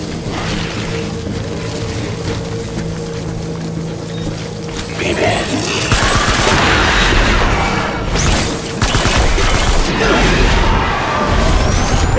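In the video game Death Stranding, a battlefield fills with continuous gunfire and heavy booms, loud and dense, swelling after a few seconds into a harsher barrage.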